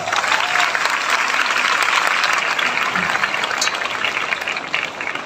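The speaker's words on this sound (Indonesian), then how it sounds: "Tepuk tangan juga untuk beliau" An audience at a religious sholawat gathering in Sidoarjo applauds the regent of Gresik, with loud, steady clapping throughout that eases slightly toward the end.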